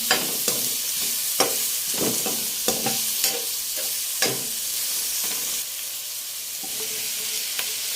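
Onion and garlic sautéing in a pan, with a continuous close sizzle broken by regular sharp scrapes and knocks of a utensil against the pan, about one every half second.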